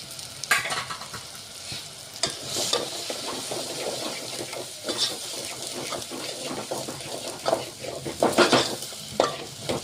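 Spices sizzle in hot oil for an eggplant curry while a spoon stirs and scrapes the pan, giving a steady close frying hiss broken by irregular clanks and stirring bursts.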